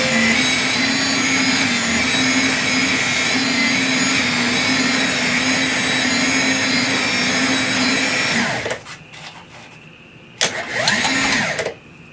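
A Bluetooth garage hardtop lifter lowering the hardtop of a Jeep Wrangler, a steady, loud motor whir running for about eight seconds, then stopping, followed by a shorter second burst near the end.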